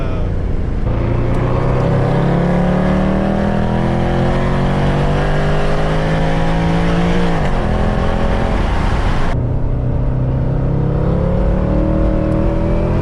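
A 550HP Mercedes C63 AMG engine roaring loudly while driving, revving up through rising pitch sweeps with a sharp drop near the middle before climbing again.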